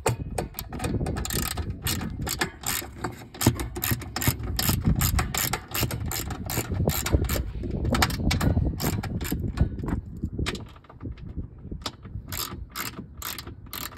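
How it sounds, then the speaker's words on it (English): Repeated ratchet clicks as bolts are tightened to secure a car hood lock, a steady run of close, sharp pawl ticks in quick strokes with brief pauses between bursts. "start securing the lock, and we're done after we secure these 3 bolts."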